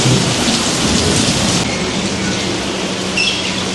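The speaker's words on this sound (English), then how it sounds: "The rain is coming down." Heavy rain pours down steadily with rumbling thunder rolling underneath, a dense, loud wash of downpour filling the whole stretch without any voices.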